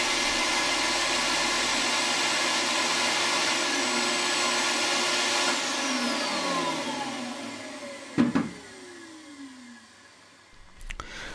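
Twin independent motors of a Record Power DX4000 dust collector roar steadily as a loud broadband whine, then wind down with falling tones, followed by a couple of clunks and a brief restart near the end.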